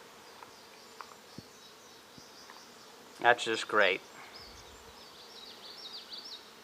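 Honey bees buzz at an open beehive in a faint, steady hum, with scattered closer passes and a brief spoken remark midway.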